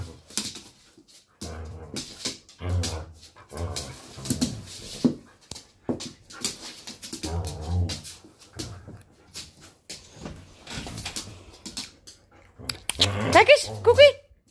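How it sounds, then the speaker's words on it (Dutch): A pet dog indoors gives repeated short yips and whimpering barks in scattered bursts, close to the listener, with quieter gaps between and a louder flurry toward the end. "Nou stoppen met blaffen."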